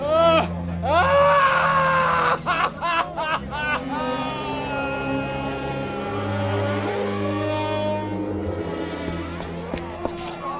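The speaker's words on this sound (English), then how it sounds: "I heard him screaming" A man screams and groans in pain in a radio drama scene, with several drawn-out anguished cries, loud and close, followed by murmuring voices in the background.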